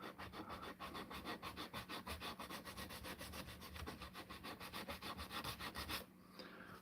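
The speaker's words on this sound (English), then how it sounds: "Just doing a bit of sanding on the carving that I've been working on" Rhythmic back-and-forth sanding of a carved wooden walking stick, a steady run of close, raspy strokes repeating for about six seconds before stopping abruptly.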